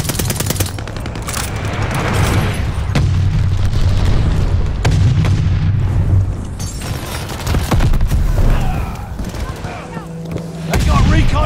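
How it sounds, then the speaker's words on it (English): Heavy booms and gunfire fill a Call of Duty: Vanguard Team Deathmatch as a glide bomb strikes, with loud blasts, rattling shots and rumbling aftershocks running throughout, and a voice speaking at times. "Friendly, sending a glide bomb."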